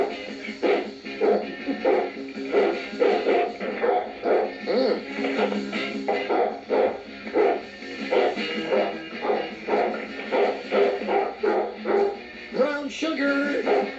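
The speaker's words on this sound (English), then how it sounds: "here's the tape of the dog on the show yesterday." A dog barks over and over in a steady, rapid series of loud, close bow-wows with no let-up, played back from a radio tape.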